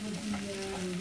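Pad see ew noodles stir-fry in a pan, giving a steady, close sizzle with a faint humming tone underneath and no talk.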